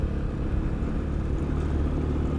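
A CSC TT250 motorcycle rides over a rough washboard dirt road, giving a dense, continuous engine and road rumble with steady vibration throughout.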